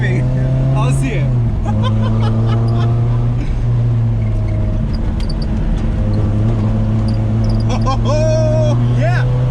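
Toyota MR2 Spyder engine drones loudly and steadily as the car drives through a turn, pitch dipping and rising with throttle and tire noise, while people talk inside.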